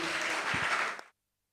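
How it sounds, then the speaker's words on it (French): Applause from a conference audience, a dense burst of clapping that carries for about a second before cutting off abruptly. "je voulais vraiment qu'on applaudisse notre..."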